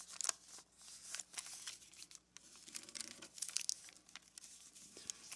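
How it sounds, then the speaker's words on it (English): Paper flaps of an origami 8-point star being folded and creased by hand, repeated soft close crinkles and rustles, quiet with no talk. "And let's fold them back up right on the existing creases."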